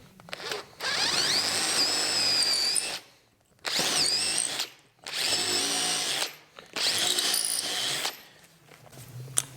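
Power drill boring screw holes through an oak casement window frame, running in three long bursts of steady whine with brief pauses between, then a quieter tail of handling.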